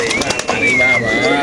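Racing pigeons coo in cages at a bird market, soft throaty calls rising over a brief bit of nearby talk and background chatter.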